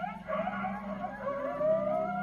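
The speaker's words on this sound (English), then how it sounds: "This group howl means they're all still buddies." A pack of wild coyotes joins in a group howl, overlapping wavering, siren-like wails that rise and fall together across the clip at moderate distance, with no talking.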